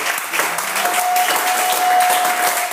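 A church congregation applauding and cheering at a welcoming service for a visiting prophet, with dense, steady clapping throughout and a faint sustained tone underneath.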